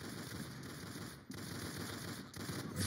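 Rapid, dense gunfire from a Dragunov rifle in the Roblox video game, a steady crackling stream of shots that runs nearly nonstop with a couple of brief dips, loud and close with no talk over it.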